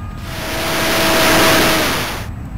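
A Stryker radio-controlled flying-wing model plane passes by, its electric motor whining as it swells loud toward the middle and fades away over about two seconds.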